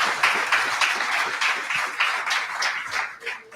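Church congregation at a Brazilian family worship service applauds, a dense wash of clapping with a steady pulse that swells and dips, fairly close and without clear speech over it.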